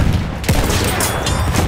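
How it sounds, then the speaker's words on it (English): Bomb explosion in the video game Battlefield 1 multiplayer: a loud, continuous roar of blasts and gunfire filling the whole moment, close and heavy, with no pause. "Dikkat! Bomba atıyorum!"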